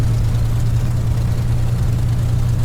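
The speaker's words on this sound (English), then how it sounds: "Engine's running nicely now, so we'll do our run up." A Spitfire's piston engine holds a steady, loud low drone at idle in a flight simulator, with no noticeable change in pitch throughout.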